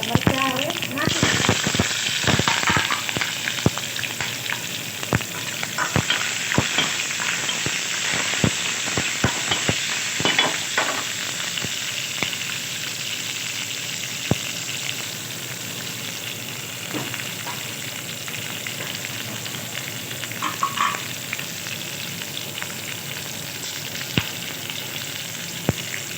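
Green chilies frying in ghee with mustard seeds and fenugreek for a stuffed ridge gourd curry, a loud, dense crackle and sizzle with sharp pops and spatters early on, settling into a steady hiss as a voice talks intermittently over it.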